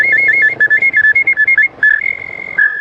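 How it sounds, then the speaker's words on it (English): A souvenir whistle bought in the surf town of Tamarindo, Costa Rica, blown in a quick string of short, shrill toots followed by a few longer held notes, loud and close with no talk. "I got my whistle now."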